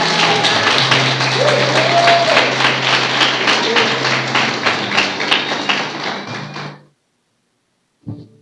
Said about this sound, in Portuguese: dê um aplauso a Jesus bem forte